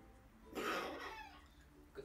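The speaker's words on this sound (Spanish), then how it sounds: "Momento que hago vídeo, momento que tose." A single short, rough cough from a dog, fairly faint, followed by quiet.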